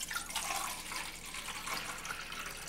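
Water pours steadily from a container into a pot on a bottle stove, a soft, continuous liquid stream with no voices.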